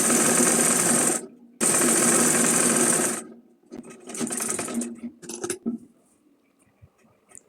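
A sewing machine stitches a fabric strip for a simple folded bag, running in two loud, close bursts with a short pause between, then slower intermittent stitches that trail off into quiet.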